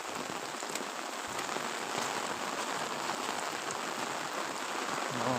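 Rain keeps falling in a village, a continuous close patter and hiss on roofs and ground, unbroken and fairly loud, with nobody speaking.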